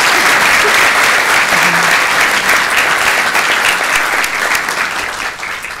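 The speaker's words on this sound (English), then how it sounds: "Let's give them a round of applause." Sustained applause from an audience at a governing board meeting, a dense steady clapping that fills the room and tapers slightly near the end, with no voices over it.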